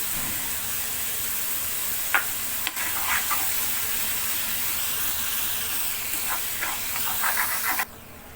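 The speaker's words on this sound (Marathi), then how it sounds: "धने आणि जिरे जाडसर वाटून घेतलेला आहे, हे टाकून घेऊया।" Coarsely ground coriander and cumin hit hot oil in a frying pan for dhaba-style dum aloo, setting off a steady sizzle and hiss with a few crackling pops throughout.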